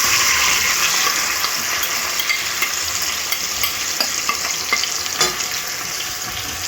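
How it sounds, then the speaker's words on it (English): A seasoning mixture goes into a hot pan for Jamaican-style brown stew pork chops. A steady, loud sizzle of frying runs throughout, with light scraping and clinking from stirring close by. "So I'm now going to add this to my pan."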